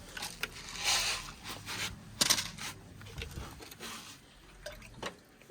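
Water is poured and filled into containers for pet pigeons, with scattered splashes, drips and trickles starting and stopping irregularly at close range, fairly soft overall.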